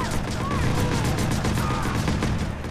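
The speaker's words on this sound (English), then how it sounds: "Yeah, I'm shooting." Gunfire in the video game Watch Dogs, a dense, continuous rattle of shots under loud game noise and mixed sound, with no clear gaps.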